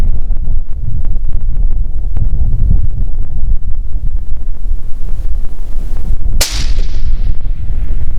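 A single sharp Winchester XPR .223 rifle shot cracks out near the end, loud and close, after several seconds of gusty wind rumbling across the microphone at an outdoor range.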